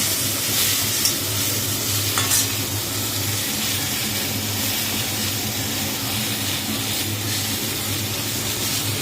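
Vegetables for a light vegetarian curry frying in hot oil, a loud continuous close sizzle with occasional stirring scrapes of a spoon in the pan, no talking.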